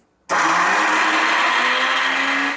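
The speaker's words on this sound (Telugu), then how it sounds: "ఇప్పుడు ఇందులో 2 యాలకులు కూడా వేసి మధ్య మధ్యలో పల్స్ ఇచ్చుకుంటూ గ్రైండ్ చేసుకుందాం" A mixer grinder with sesame seeds and two cardamom pods starts abruptly after a brief silence and runs as one loud, continuous whirring burst until it cuts off at the end.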